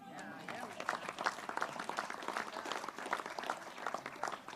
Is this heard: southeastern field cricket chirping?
no